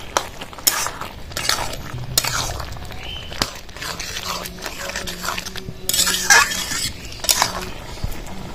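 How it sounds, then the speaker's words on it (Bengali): A spoon works through moong dal with bottle gourd in a pot, scraping and clinking against the metal in irregular strokes over a soft background sizzle, fairly close and clear. "ভালো করে নাড়াচাড়া করে দেবো।"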